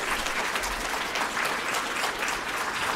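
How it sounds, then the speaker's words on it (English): An audience claps steadily for three candidates at a county commission and school board election event, a dense, even patter of many hands that holds from start to finish with no voices. "Let's give them a round of applause, please."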